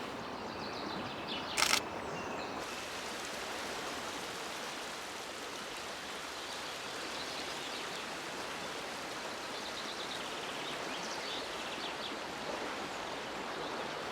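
The Venoge river in the canton of Vaud flowing steadily, a continuous broadband rush of moving water heard close and unchanging throughout, with one brief higher-pitched sound near the start.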